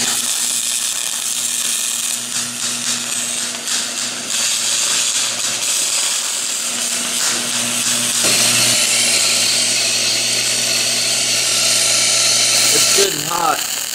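MIG welder running on thin aluminum, a steady crackling hiss with a constant electrical buzz underneath, holding for several seconds before a brief change near the end.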